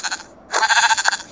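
A Minecraft sheep bleats: a short nasal bleat followed after a brief gap by a longer wavering one, clear and close with no talking.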